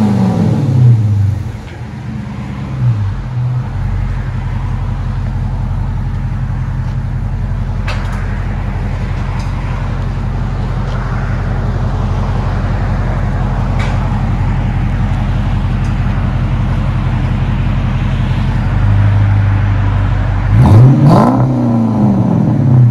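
A Dodge Charger 5.7L HEMI with Flowmaster mufflers and the resonators removed rumbles at a deep, steady idle, with a sharp rev at the start and another climbing rev near the end, loud and close.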